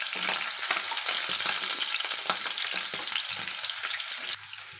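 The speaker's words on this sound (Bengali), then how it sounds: "এবার আমি সেদ্ধ করা চিংড়ি মাছগুলো তেলের মধ্যে দিয়ে ভেজে নেব।" Boiled prawns fry in hot oil with a dense, continuous sizzle, loud and close, broken by the scrape of stirring.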